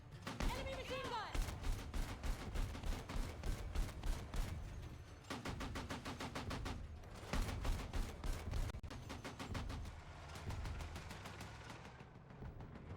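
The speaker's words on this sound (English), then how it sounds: "Enemy machine gun!" Rapid bursts of machine gun fire ring out in a Battlefield 6 firefight, long rattling volleys broken by short pauses, loud and close with other gunfire and battle noise mixed in.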